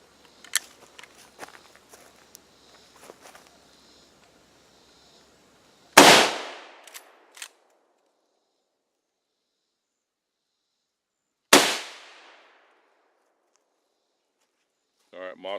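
Two loud, sharp 30-30 rifle gunshots fired outdoors several seconds apart, each with a short echoing decay, after some light handling noises and brief speech.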